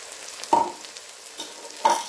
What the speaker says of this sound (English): we're going to cook this for another about 3 minutes with the garlic in there